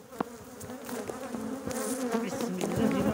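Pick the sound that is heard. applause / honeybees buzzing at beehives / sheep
honeybees buzzing at beehives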